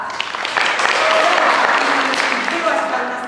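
A studio audience claps loudly and steadily, a dense wash of many hands that swells slightly mid-way and then holds, with a few voices mixed in.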